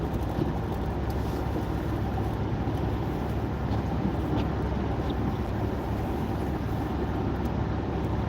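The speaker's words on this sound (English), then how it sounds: "I'm listening to the sound that the car makes, the tires" Car tires rolling on a slick road from inside the car in the slow lane, a steady low rumble and hiss of road noise with faint engine drone, unbroken and without talking.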